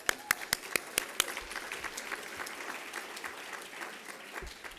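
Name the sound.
audience applause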